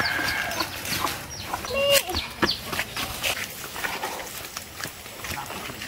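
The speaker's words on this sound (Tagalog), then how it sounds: "Yung manok." Chickens clucking around a rural family yard, several short clucks scattered near and far over a noisy outdoor background, with people talking throughout.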